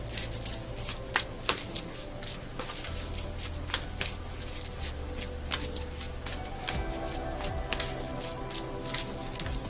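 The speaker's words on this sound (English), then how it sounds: "So I'm going to shuffle the cards now" Tarot cards being shuffled repeatedly, a steady run of crisp riffles and flicks, close and fairly loud, with no talking.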